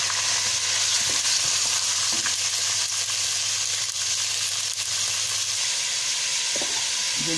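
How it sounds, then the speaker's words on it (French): Meat for a homemade broth fries in a pot with a steady, dense sizzle and hiss throughout, close and loud, with occasional stirring clinks and a low hum underneath. "Maintenant, je vais laisser la viande. La griller un peu."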